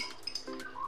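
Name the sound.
utensils clinking while adding yogurt to the pan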